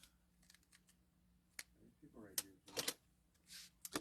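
Scissors trim the ribbon tails of a bow on a handmade card, making a few quick, close snips among faint rustling and handling sounds, quiet overall, with soft speech around them.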